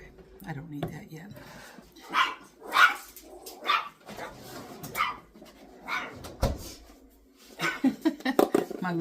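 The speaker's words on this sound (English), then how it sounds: "She's a tiny little chihuahua, but she thinks she's a big old Rottweiler." A tiny chihuahua yaps in a string of sharp, close barks spread across the moment, with a bit of whimpering and a person talking in between.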